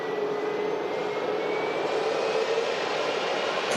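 An Airbus A320neo at Manchester Airport produces a steady, loud jet engine roar with a faint rising whine, constant throughout and with no voices.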